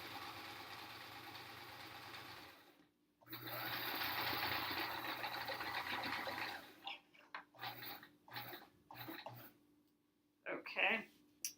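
A sewing machine stitches a quilt panel for a sampler quilt in two long steady runs separated by a pause, then stops and starts in short bursts, with a voice speaking briefly near the end.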